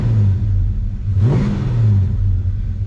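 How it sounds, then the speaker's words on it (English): A Mopar big block engine in a lowered short-bed pickup truck revs once, the steady low idle rising in a short throaty swell and dropping back to a rumbling idle, close and loud with no talking. "This thing does rev up nice."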